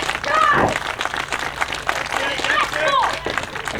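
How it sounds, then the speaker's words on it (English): Scattered clapping and crowd noise fill a large room at a wrestling event, with voices talking and calling out over the applause. "Claps are echoing out around the Schramm House"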